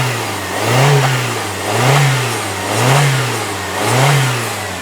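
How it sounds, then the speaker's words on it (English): A 1999 Saturn SC2 coupe's twin-cam 16-valve engine revved four times in an even rhythm, each rise and fall distinct and close up with no talking. "Let me rev it up for you."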